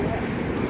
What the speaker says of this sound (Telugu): చూడండి వాటర్ ఎట్లా పోతుంది